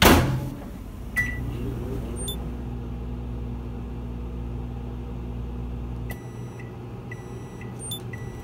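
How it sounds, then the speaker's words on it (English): A microwave oven heating a keto muffin mixture gives a steady, close mechanical hum that stops partway through, followed by a few short electronic beeps. "We're just gonna throw it in the microwave for"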